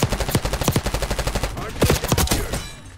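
Gunfire in Call of Duty: Black Ops 6, with rapid automatic bursts firing in a dense, close rhythm and a short pause partway through, with faint voices underneath.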